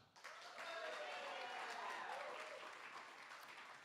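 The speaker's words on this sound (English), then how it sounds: "a round of applause for Poet B" Audience applause for a poet at a slam poetry festival preliminary round, a steady wash of many hands clapping that swells quickly and holds loud and even throughout, with a few voices mixed faintly into it.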